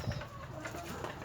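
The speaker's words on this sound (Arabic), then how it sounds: "وده الحمام" Domestic pigeons coo softly at close range in a rural setting, a brief low murmur.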